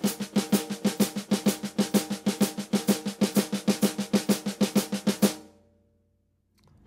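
Shuffle rhythm on a snare drum at a quicker tempo, a steady run of crisp swung hits, close and alone, stopping cleanly and leaving a short silence.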